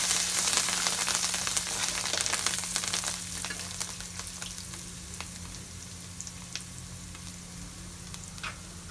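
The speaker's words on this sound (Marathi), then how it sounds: "आता मिक्स करून घ्यायचं आहे." Dhokla pieces being mixed in a pan, with a steady sizzle and scattered scraping clicks of stirring, fairly quiet and even throughout with no voices.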